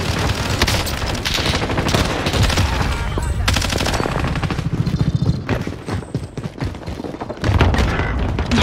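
Loud, dense automatic gunfire and explosive bursts from a Call of Duty match on Rebirth Island pound almost nonstop, with a heavy boom-like blast near the end.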